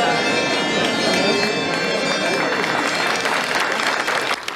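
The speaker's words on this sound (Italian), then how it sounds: "Il suono delle campane e l'applauso dei fedeli accompagnano l'ingresso del nuovo parroco nella chiesa di Nostra Signora della Speranza" Churchgoers applaud at length to welcome the new parish priest entering the church of Nostra Signora della Speranza, a dense, loud, continuous clapping that fades slightly at the end.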